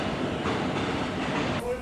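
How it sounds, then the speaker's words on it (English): Loud rail noise at a station where a train to King's Cross is awaited: a dense, steady rumble and hiss with no clear breaks, heard briefly. "I'm currently waiting for my train to go to King's Cross."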